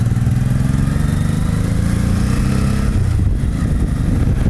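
A Honda VT700 motorcycle engine pulls away after basic servicing, a loud close-up rumbling drone with steady low pulsing that shifts slightly near the end, with no voices over it.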